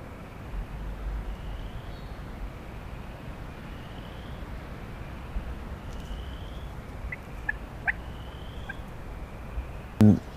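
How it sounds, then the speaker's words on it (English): Wild turkeys gobble several times from a distance outdoors, short faint bursts over a steady background of insects or ambient noise, with one louder, nearer gobble near the end. "hearing turkeys gobble"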